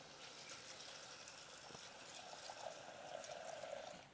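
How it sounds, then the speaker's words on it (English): Water pouring into a cooking pot of prepared vegetables, including celery, a steady trickling stream that rises and brightens toward the end as the pot fills, fairly faint and close. "In it goes a bit of water."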